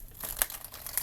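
Crisp papery crinkling and rustling of tarot cards being shuffled in quick bursts, close by, with a sharper snap near the middle.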